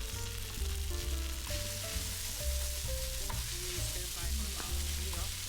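Steady sizzling of mushrooms, stock and caramel stir-frying in a hot pan for zongzi filling, with scraping and clinking of a utensil stirring at an irregular pace.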